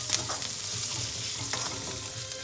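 Serrano chilies splatter and sizzle loudly in hot oil while cooking lemon rice, a steady crackling fry with sharp pops, close up and with no talk.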